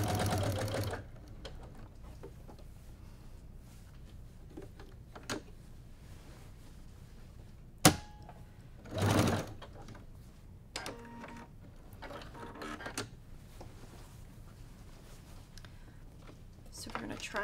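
Sewing machine stitching the corner of a quilt binding: a short burst of rapid mechanical stitching opens, followed by quieter handling clicks and a couple of brief whirs, close and fairly faint.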